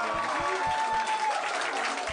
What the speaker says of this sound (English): Applaud if you refuse to let pizza be violated.